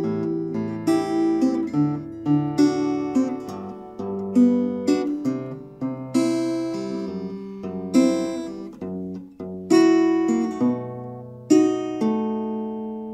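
Fingerstyle acoustic guitar plays the STALKER theme from its opening, a steady run of plucked notes and ringing chords with regular attacks, close and clear, with no talking.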